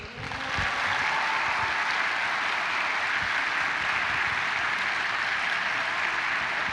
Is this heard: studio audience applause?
yes